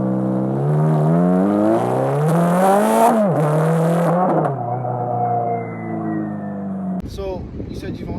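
A Ferrari F430 with valve exhaust revs loud and close, its engine note rising and dipping through several sweeps before a short burst of different sound near the end.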